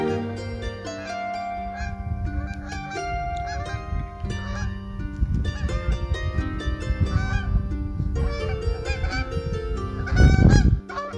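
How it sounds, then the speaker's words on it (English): A flock of geese honks loudly and continuously overhead on a rocky coast on Skye, many overlapping calls growing louder as they pass close by. "Nice fly past there by some geese."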